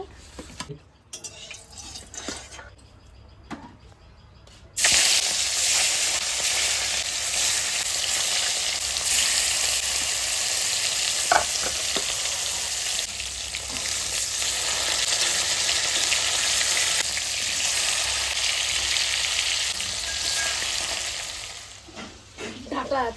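Vegetables frying in hot oil for a Bengali chorchori of stalks and small fish: a loud, steady broadband sizzle that jumps in abruptly after a few quiet seconds, with faint stirring scrapes under it and no talk.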